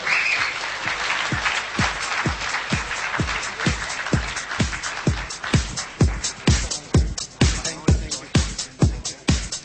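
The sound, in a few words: audience applause at awards ceremony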